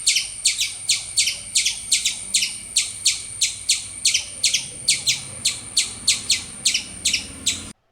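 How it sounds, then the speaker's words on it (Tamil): Squirrel calls: rapid, sharp, high-pitched chirps repeated in a steady, even rhythm for several seconds, bird-like and fairly close. "அணில்களோட சத்தத்தை கண்டிப்பா எல்லாருமே கேட்டிருப்பீங்க."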